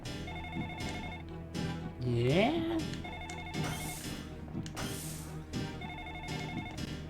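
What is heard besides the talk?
fax machine phone ringing in the video game The Ring: Terror's Realm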